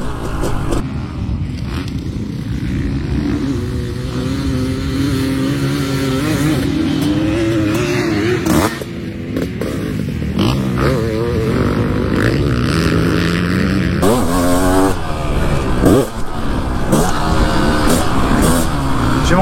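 A 500CR motorcycle engine drones and revs steadily on a winding road, loud and continuous with shifting pitch as it accelerates, surges at the end, and carries wind rush throughout.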